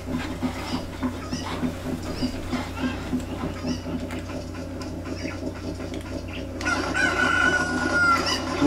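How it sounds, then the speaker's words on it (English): Cucco chickens in Zelda: Ocarina of Time clucking and crowing repeatedly over a steady game background hum, close and moderately loud. "What I'm wondering is about the cuckoo that's inside of the crate."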